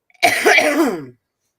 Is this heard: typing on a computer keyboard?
no